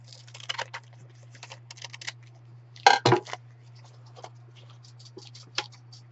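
Scissors cut through a paper bag in a run of crisp, close snips, with a louder pair of cuts near the middle over a steady low hum.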